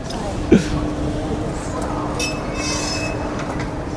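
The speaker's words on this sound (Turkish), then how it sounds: "Dostlar biz bir metroya atlayalım." A metro train rolls along with a loud steady rumble, rail squeal and clatter heard from on board, while people talk over the noise.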